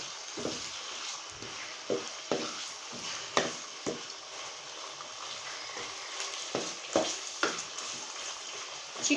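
Chicken pieces dropped into hot ghee for a white chicken karahi, a soft continuous sizzle broken by a string of sharp spattering pops and clatters, fairly quiet overall with no talking.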